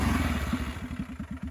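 A 2001 Polaris Sportsman 400 2x4 quad's engine chugs in a steady, fluttering rhythm while riding trails, close and fairly loud with rattling clatter.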